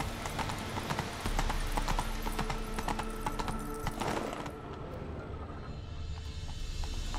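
A horse gallops in The Witcher, its rapid clip-clop hoofbeats close and continuous under faint ambient noise, easing off toward the end.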